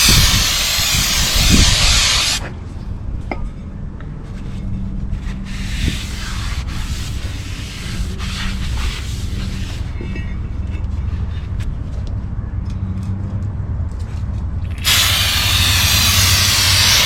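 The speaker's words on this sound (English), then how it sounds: "I'm going to be cleaning up my rotor with some brake clean in case there's any grease or oil on top of" Brake cleaner sprays hard onto the front brake rotor of a 2012 Toyota Camry LE in two loud hissing bursts, one at the start and one at the end, with quieter rubbing and handling noises between them.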